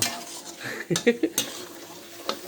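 Wilted old holy basil leaves tossed into beef stir-frying in a pan, with a cluster of clattering spatula scrapes and metal knocks over a low sizzle, then quieter frying and one last clink.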